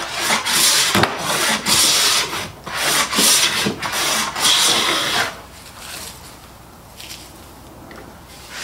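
A Stanley No. 4 hand plane with a 55-degree high-angle frog takes shavings off a wooden board in a quick series of about eight rasping strokes, then falls to quieter scraping and occasional faint clicks.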